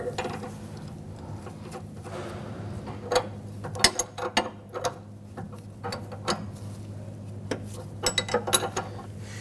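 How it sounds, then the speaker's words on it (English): Metallic clicks, clanks and ratcheting come from an inner tie rod tool being fitted to the steering rack of a 2007-2017 Jeep Patriot, in irregular close bursts over a low steady hum, with no voice. "Using an inner tie rod tool, I want to go ahead and set this up, install this, and then we're going to use this to remove the inner tie rod."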